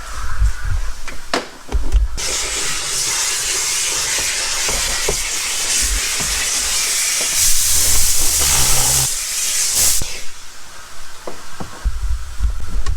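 A steam cleaner on car carpet gives a steady loud hiss of steam for several seconds with occasional thumps and scraping underneath, then stops and clatter follows.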